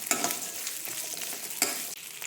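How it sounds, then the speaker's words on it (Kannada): Finely chopped green chillies and ginger fry in a pan for aloo bonda filling, giving a moderate, steady sizzle punctuated by the scrape of stirring, with no talk. "ಚೆನ್ನಾಗಿ ಫ್ರೈ ಮಾಡ್ಕೊಳ್ಳಿ."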